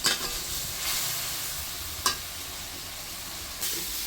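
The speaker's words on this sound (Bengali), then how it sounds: "এখন আমি মশলাটা সুন্দর করে কষাবো।" Spice masala with chilli powder and salt sizzles in a pan while being stirred for prawn bhuna, a continuous frying hiss broken by a few sharp scraping stirs.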